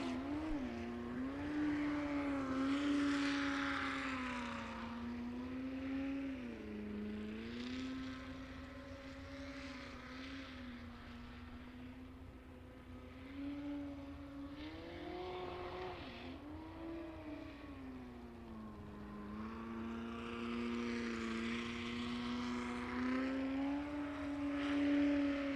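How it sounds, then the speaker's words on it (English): A sprint boat engine at a live race revs high and whiny like a model airplane, its pitch rising and falling as it runs the course, heard from a distance and steady throughout. "His boat sounds like a remote-controlled airplane."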